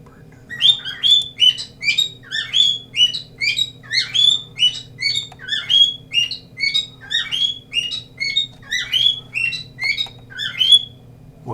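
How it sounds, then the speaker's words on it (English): A single bird calls repeatedly, giving sharp, high chirps in a steady series of about a dozen bursts at close range, with a low background hum underneath. "Damn, that bird does that a lot."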